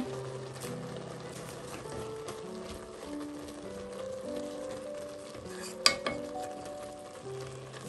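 Radish halwa cooking on low heat in a pan, a soft continuous sizzle and stir with low tonal hum and one sharp clink partway through.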